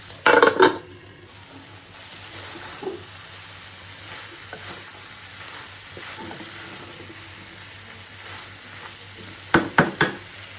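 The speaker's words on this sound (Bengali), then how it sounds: "সাজনাটা আর আলুটা একটু ভালো করে কষাবো" Moringa drumsticks and potato sauté in a pan for a dish with dried loitta fish, giving a soft, steady sizzle with clattering stirring scrapes at the start and again near the end.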